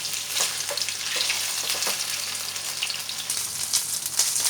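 Paneer pieces dusted with coating fry in hot oil, a continuous crackling sizzle at moderate level with small pops and bursts scattered throughout, no speech.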